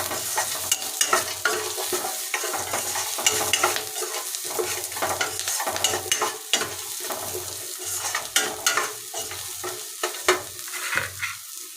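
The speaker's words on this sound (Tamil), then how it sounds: "இந்த அளவுக்கு வதங்கினா போதும்" Green chilies sauté in hot oil in a pan for egg curry, a steady close sizzle broken by frequent stirring scrapes and clacks of a utensil, with no talk over it.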